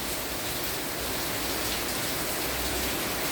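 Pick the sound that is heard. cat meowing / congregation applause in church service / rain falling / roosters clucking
rain falling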